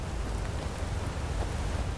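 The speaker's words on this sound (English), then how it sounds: "this rain is miserable" Steady, dense rain falls in the Skyrim video game, an even wash of hissing drops with a low rumble beneath, continuous and moderately loud with no voices.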